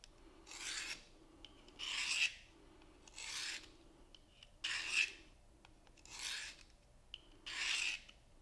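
Knife blade drawn across the diamond abrasive of a folding field sharpener, six even rasping strokes about a second and a half apart, close and fairly quiet with short pauses between each pass.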